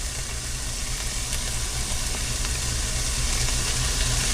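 Hot and sour egg drop soup with peppers and sambal being stirred in a hot pot, a steady broadband sizzle and bubbling hiss with a low rumble underneath, continuous and close, no talking.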